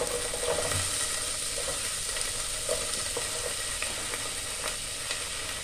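Garlic and onion sauté in a pan for a chicken pie filling, a steady soft sizzle with occasional stirring scrapes and clicks, fairly quiet and without talk.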